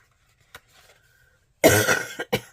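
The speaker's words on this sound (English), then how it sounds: "Excuse me, still coughing." A faint click, then a harsh, close cough in one long burst followed by a short second cough.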